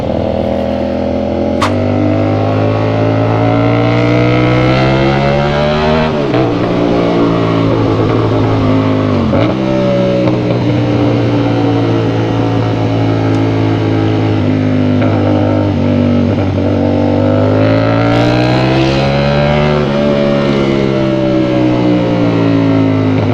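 A Kawasaki ZX10R sport motorcycle screams while racing, its loud, continuous engine note rising and falling with throttle and gear changes, up close, with no voices.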